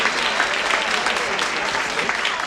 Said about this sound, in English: How about, by show of applause, we decide whether or not we try to call her right now,